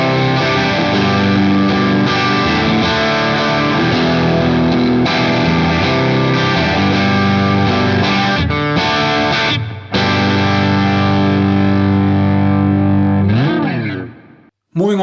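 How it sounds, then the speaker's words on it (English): Electric guitar on the bridge pickup driven through an overdrive pedal, loud sustained distorted chords and notes ringing continuously, ending with a bend and a sudden cutoff. "Then I would go to the bridge pickup, hit the overdrive."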